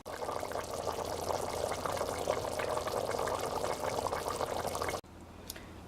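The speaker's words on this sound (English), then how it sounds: "once your meat starts to boil, you're going to stir occasionally until the meat is tender" Meat for Haitian griot bubbles in sauce in a pot, a dense steady simmering hiss with close crackles that runs for about five seconds, then cuts off abruptly.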